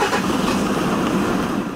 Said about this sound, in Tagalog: Tunog ng kotse.